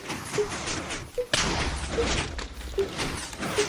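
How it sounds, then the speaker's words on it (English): Minecraft pistons fire in a TNT Spleef game as a string of short thumps and clunks at roughly regular intervals, with a heavier slam partway through and game noise throughout. "I gotta turn piston sounds down"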